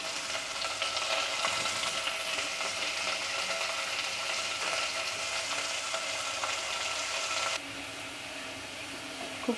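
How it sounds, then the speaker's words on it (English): Onions fry on medium flame in a pan for spicy pepper chicken, giving a dense, even sizzle that runs throughout and drops slightly near the end, with a faint stir or two. "Cook the onions in medium flame."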